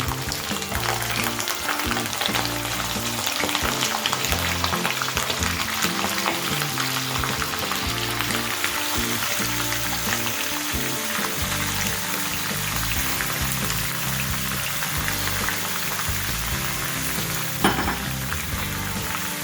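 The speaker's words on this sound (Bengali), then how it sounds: "এবার এই মাটনটা আমি তেলের মধ্যে দিয়ে দিচ্ছি।" Mutton pieces hiss and crackle loudly in hot oil, a dense continuous frying sizzle that runs steadily throughout with no voices.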